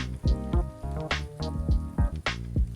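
Pasta tossed in a pan with pasta cooking water added, giving a steady sizzle and frying crackle broken by several sharp, close scraping clatters of the utensil against the pan at an irregular rhythm.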